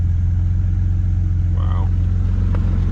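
A cheap 4x4 vehicle's engine runs with a steady low rumble close by, a brief mechanical rise in the middle and a short click near the end, no talking.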